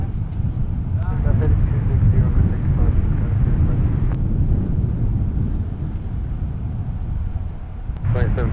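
An airliner rolls for takeoff on a runway at Minneapolis–Saint Paul airport, a loud continuous low engine roar filling the whole stretch with no letup, under radio chatter from air traffic control.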